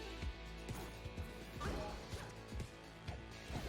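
Glass shatters in Cadence of Hyrule, a dense crashing burst at about 1.6 seconds set within busy game music and repeated percussive hits.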